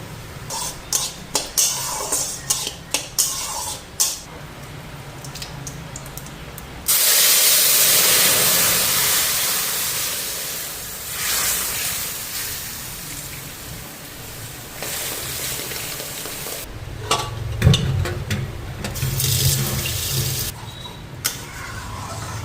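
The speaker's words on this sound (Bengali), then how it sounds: "ঘি গরম হয়ে গেছে শুকনো লঙ্কা জিরা ফোড়ন দিয়ে দেয়" Dried chilli and cumin dropped into hot ghee for tempering, a loud burst of spattering sizzle that settles into a steady hiss, with clinks and stirring noises before and after.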